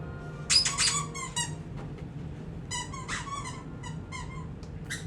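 Bursts of high, chirpy squeaks from a small creature in the video game Hogwarts Legacy, coming in quick clusters with pauses between them over a faint steady background hum.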